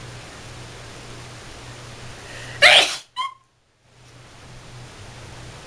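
A single sharp, close sneeze cuts through a steady background hiss and is followed by a short catch of breath, then a moment of near silence.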